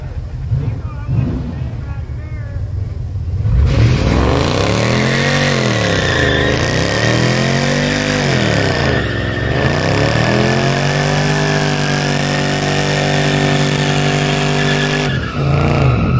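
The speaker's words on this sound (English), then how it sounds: "Here we go, 600 horsepower Mercedes." A 600-horsepower Mercedes does a burnout at a fair car-show contest, its engine roaring loud and steady with revs rising and falling in waves over sustained tire squeal, and crowd noise underneath.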